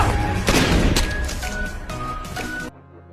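Several gunshots from a policeman in a film ring out as sharp, loud cracks in quick irregular succession, then cut off into quiet.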